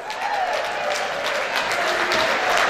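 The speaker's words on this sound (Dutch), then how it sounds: "Uw applaus voor Serena Stel." A crowd at a sports awards ceremony applauds steadily, with dense clapping holding at an even level for the whole stretch.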